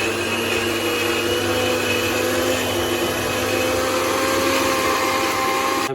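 Kitchen blender grinding garlic and green chili into a paste, a steady high-pitched motor whine that stays constant and close throughout, with no talking.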